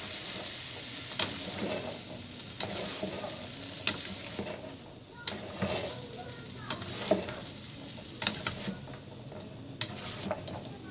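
Pechay Tagalog stalks being stirred in a pan for pancit habhab, a soft sizzle under scattered utensil clicks and scrapes against the pan at a moderate, quiet level.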